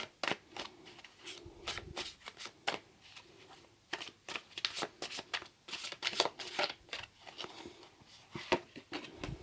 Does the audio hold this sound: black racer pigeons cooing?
no